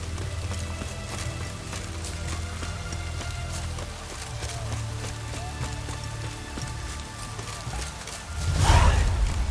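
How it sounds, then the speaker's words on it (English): Steady rain patters continuously in The Witcher 3: Wild Hunt, with a low rumble beneath, and near the end a louder whooshing burst swells up over the downpour. "It's raining, of course it's going to be damp."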